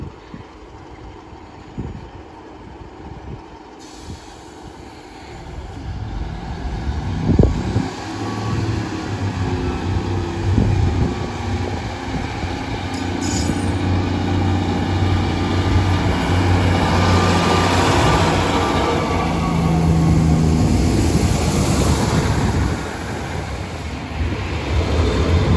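A Transport for Wales passenger train pulls away from Treforest station in the South Wales Valleys, its engine and wheel rumble building from a low hum into a loud, steady roar with faint squeals, and no voices.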